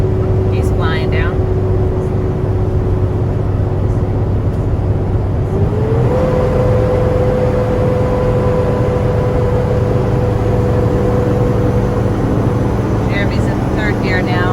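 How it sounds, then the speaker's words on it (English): Engine of a Jayco Seneca Class C motorhome climbing Hoosier Pass on Highway 9 in third gear up an 8% grade, a steady droning hum that shifts up slightly in pitch midway, with brief faint clicks near the start and end. "Jeremy's in third gear now, climbing up the mountain."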